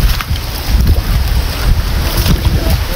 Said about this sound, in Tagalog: Grabe guys yung hangin oh, lumalakas na talaga.